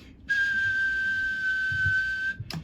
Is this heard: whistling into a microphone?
yes